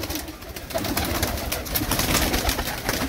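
In a Jammu pigeon loft, teddy pigeons coo in low, murmuring waves, a quiet, continuous burble of several birds heard fairly close, with no one talking.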